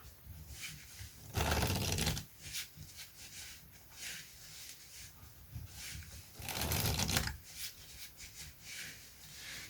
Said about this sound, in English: today we're going to look at the next technique in this wonderful book